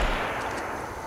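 A grenade explodes in the WWI video game 1916 Der unbekannte Krieg, a loud, broad rumbling blast that fills the moment with dense low roar and hiss, tailing off briefly without any voice over it.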